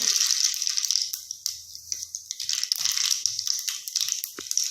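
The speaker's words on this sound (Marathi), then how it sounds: "आता मी मोहरी टाकून घेत आहे" Mustard seeds drop into hot oil with peanuts in a pan, giving a bright, close crackling hiss full of rapid small pops and spits that swells and eases over a few seconds.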